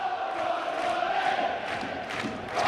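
A rugby league crowd at a Warrington match roars in sustained, distant cheering that swells slightly, filling a large stadium without any distinct voices.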